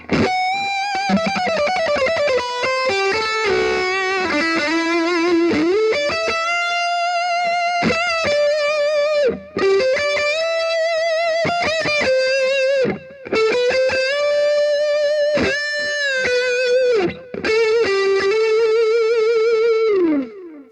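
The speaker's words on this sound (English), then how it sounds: "So this is what it sounds like with delay." Distorted electric guitar lines play through a Roland Cube 80 modelling amp with warm delay, notes ringing into echoing repeats, loud and sustained with brief gaps between phrases.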